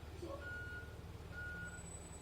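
A very large school bus pulls up nearby with a low, steady engine rumble, and two faint reversing beeps sound over it.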